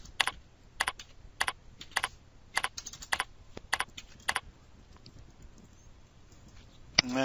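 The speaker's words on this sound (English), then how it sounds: "And I will just type in a description here" Keystrokes on a computer keyboard come in short clustered bursts while a description is typed into a maintenance work order form. The taps are close and clear with brief pauses between groups, the typing stopping near the end with a final louder click.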